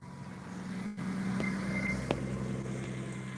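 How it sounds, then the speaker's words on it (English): Race cars passing at a Combe race day, a steady low engine rumble heard from nearby, holding level for several seconds with a brief dip and a sharp short knock partway through. "the rumble of the cars going past us"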